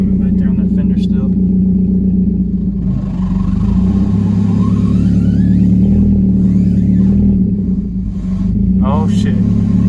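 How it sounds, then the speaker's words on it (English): A modified car driving with its tire rubbing against the fender: a loud, continuous low engine and road rumble with a scraping drone, while people talk over it inside the car. "that's that tire rubbing right there on that fender still"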